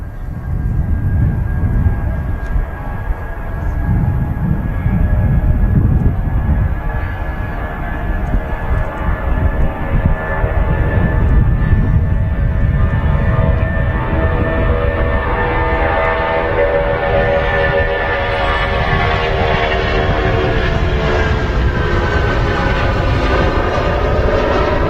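A jet airliner roars steadily and loudly through a long take-off rotation at Manchester Airport, a broad engine rumble with a rising whine that holds for the whole stretch, no talk over it.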